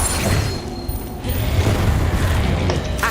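An explosive Confringo spell in the video game Hogwarts Legacy lands as a dull booming burst with crashing debris, followed by a rumbling, clattering wash of game noise.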